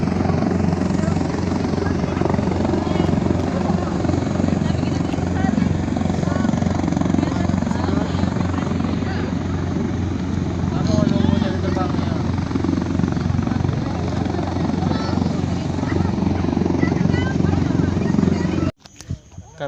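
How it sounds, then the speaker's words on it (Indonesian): A military helicopter at an air force base runs with a steady, loud rotor and engine drone heard from close by, continuous throughout before cutting off abruptly at the end, with people talking over it. "Kami ada di bawah pesawat helikopter."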